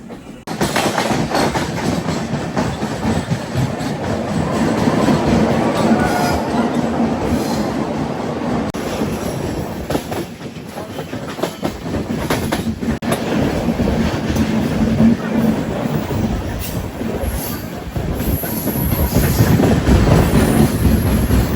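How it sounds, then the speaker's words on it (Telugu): A train climbs slowly up the ghat from Visakhapatnam toward Araku through tunnels in the monsoon, a steady loud rumble with wheel clatter and faint squeals running unbroken throughout, with no talk. "ట్రైన్ చాలా స్లోగా వెళ్తుంది, ఎందుకంటే ఫుల్ ఘాట్ ఎక్కుతుంది కదా."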